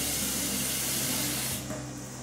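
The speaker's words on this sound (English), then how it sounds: "We'll put some water in." Water pours from a filtered kitchen tap into a cooking pot, a steady close rushing hiss that cuts off and softens near the end.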